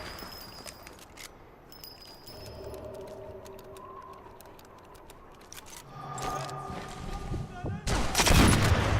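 Scattered gunshots from the video game Sniper Elite 4 crack amid ambient game sound, with someone talking over parts of it and a louder burst near the end.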